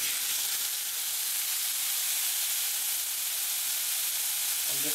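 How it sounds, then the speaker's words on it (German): Marinated chicken fillet fries in a pan with a steady, close sizzling hiss that holds at an even level throughout, with a faint stir or shift of the meat near the end. "Dann wird das ganz normal gebraten."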